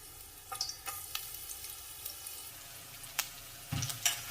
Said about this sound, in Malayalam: ചൂടായ എണ്ണയിലേക്ക് തേങ്ങാക്കൊത്തൊന്ന് വറുത്തെടുക്കാം